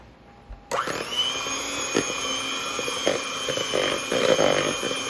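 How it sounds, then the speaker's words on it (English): Electric hand mixer beating cream cheese for potato candy, switching on abruptly into a steady high motor whine with occasional clunks as the beaters hit the bowl, close and continuous. "And you mix those together really well with a mixer."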